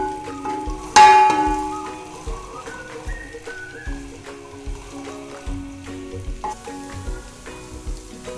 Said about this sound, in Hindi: अदरक लहसुन पिसा हुआ 2 खाने के चम्मच तेल में डालेंगे।